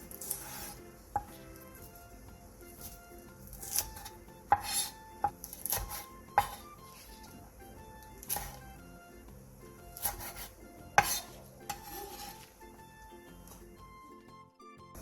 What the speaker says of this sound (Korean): 꽈리고추 2줌을 길게 반으로 가른 뒤 먹기 좋은 크기로 길게 잘라주세요.